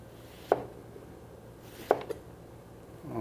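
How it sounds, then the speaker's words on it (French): Two sharp, close knife strokes about a second and a half apart as a chef's knife slices oranges into rounds on a cutting board, with a quiet room behind them. "Et là, avec le couteau de chef,"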